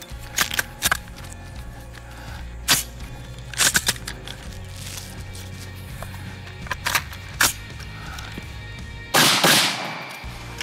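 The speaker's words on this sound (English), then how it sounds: "Double feed, stuck hard magazine to get out." Sharp metallic clacks and snaps of a carbine being handled to clear a double-feed malfunction with a stuck magazine, a few separate close knocks over steady background hum, ending in a longer rattling burst.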